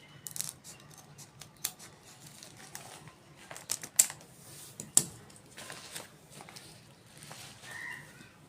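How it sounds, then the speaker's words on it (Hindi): Scissors snip through fabric for a zipper handbag in a string of sharp, close cuts at an uneven pace, several louder clips standing out over a quiet background with no talking. "दूसरी साइड भी इस तरह से कट कर देंगे"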